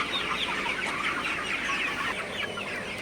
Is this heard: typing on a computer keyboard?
no